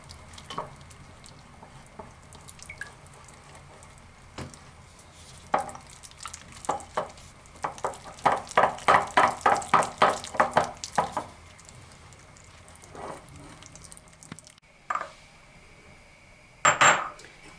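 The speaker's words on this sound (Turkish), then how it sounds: "Şimdi bunu iyice çırpacağım." A whisk beating flour and egg yolk into a yogurt soup mixture in a bowl, rapid rhythmic clinking strokes in a burst mid-way, with scattered clanks of utensils before and after.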